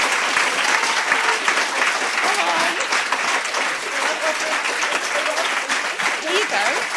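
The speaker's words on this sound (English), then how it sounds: "Stop clapping." An audience at a literary prize ceremony breaks into dense, sustained applause, a steady wash of many hands clapping at moderate distance from start to finish.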